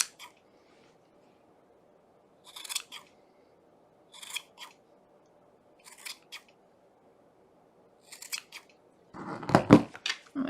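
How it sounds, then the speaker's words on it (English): Scissors trimming a yarn pom pom, several short bursts of quiet snipping spaced a second or two apart, close and soft, ending with a louder rustle of handling. "I'm just about finished trimming."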